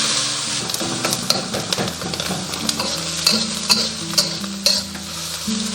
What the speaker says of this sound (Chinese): 接着直接用这个葱头油炒虾头虾壳